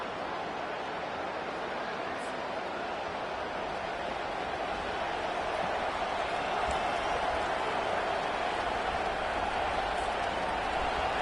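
A large crowd roars and cheers continuously, a dense wash of voices that stays loud throughout and swells slightly toward the end.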